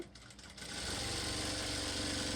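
An electric sewing machine stitches a long dart on a garba-style blouse, starting with a few quick ticks and then settling into a steady, fast, whirring hum that runs on continuously close by.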